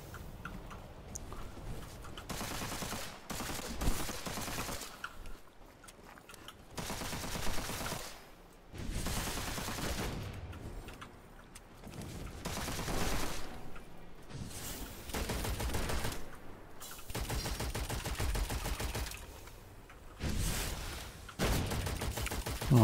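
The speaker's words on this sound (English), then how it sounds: "Oh, the triple shot." Repeated triple-shot gunfire in Witchfire, bursts of loud crackling shots arriving in clustered volleys separated by brief pauses, sustained over about twenty seconds, with ticking mechanical clicks between them and no speech.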